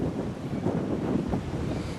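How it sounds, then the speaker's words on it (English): A gust of wind from the west sweeps across an outdoor lawn bowls green during a 2007 Queensland Open semi-final, a low, rumbling buffet against the microphone that holds steady for two seconds with no speech. "another gust of wind coming in from the west."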